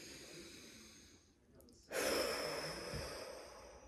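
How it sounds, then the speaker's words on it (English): A person takes a slow, deep breath: a soft hiss of inhaling, a short pause, then a louder, fuller breathy exhale close to the microphone. "Take a deep breath with me."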